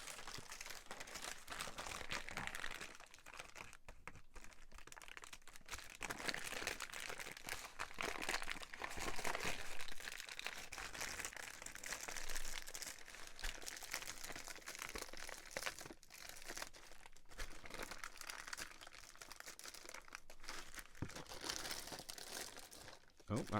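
Homemade faux glassine paper crinkles and crackles continuously as it is peeled away, close and fairly faint, with a voice talking intermittently.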